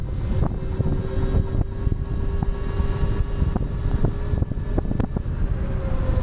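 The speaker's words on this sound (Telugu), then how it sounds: "ఇంజన్ సౌండ్ అయితే వినొచ్చు మీరు." An Ola Roadster X Plus 4.5 kW electric motorcycle being ridden, a steady whirring motor whine with faint tonal lines riding over heavy, constant wind rumble, and no speech.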